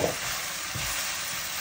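Broccoli lands in a hot pan with seasoned chicken and sizzles in a short, steady frying hiss, with a soft stir or scrape partway through, heard close up.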